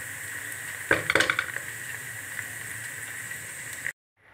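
Onions, tomatoes, green chillies and potatoes frying in a pan for spiced potato and fenugreek, a steady close hiss of sizzling oil with a brief clatter of a utensil stirring near the start.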